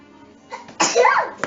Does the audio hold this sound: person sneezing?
yes